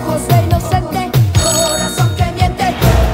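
Mobile phone ringing loudly and close, a repeating electronic ringtone pattern of quick pulses that keeps going through the whole stretch, with no voices over it.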